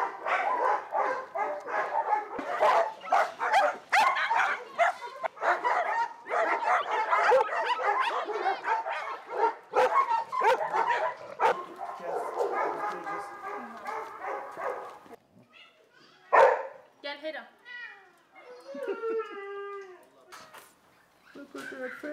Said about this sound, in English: You are right next door to a doggy daycare.